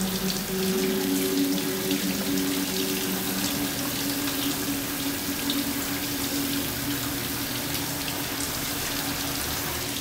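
Steady running water from a shower fills the whole stretch, a constant close hiss with a low hum beneath it and no talking.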